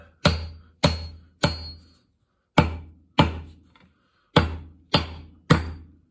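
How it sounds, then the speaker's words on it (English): Eight sharp metallic taps of a large 1-inch flat washer driving a wedge into an axe handle resting on a flat steel block, each crisp hit ringing briefly, spaced unevenly with short pauses, close and alone. "We're just going to tap it with this big 1-inch old flat washer."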